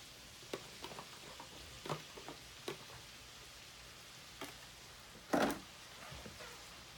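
Mushrooms go into a hot pan of gravy base for smothered pork chops, giving a soft crackling sizzle with scattered pops and one louder burst of spattering, no talk over it.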